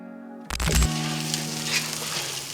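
Lobster and butter hit a hot flat iron at an outdoor campsite, a sudden loud sizzle that settles into a steady hissing fry, close up and without talk.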